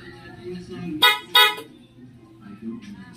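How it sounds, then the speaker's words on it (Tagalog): Horn of a Yamaha Nmax motorcycle, fitted with a new TDD mini driving light, sounds two short, loud honks in quick succession, close by, with a low background murmur before and after. "Busina."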